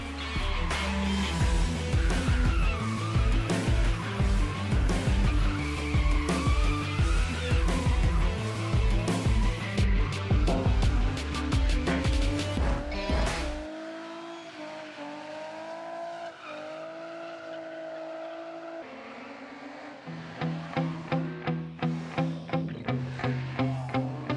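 BMW cars racing up a historic hill climb course at the Montée Historique du Maquisard, loud engines revving hard through gear changes, then a quieter stretch before another car roars past with rapid staccato revs.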